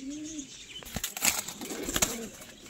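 New adult pigeons in a home loft coo softly while wings flap in short, sharp bursts nearby, a busy, uneven mix of calls and flutters.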